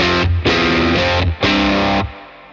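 A heavily distorted electric guitar through a Victory VC35 The Copper amp with mid boost plays loud, barky midrange chords in three sustained bursts, with short gaps between them.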